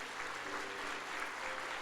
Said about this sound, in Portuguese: Dê uma nova salva de palmas a Jesus.